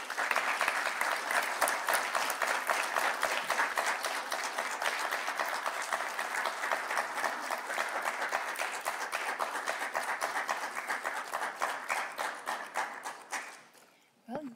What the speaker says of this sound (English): Please put your hand together for our wonderful panelists.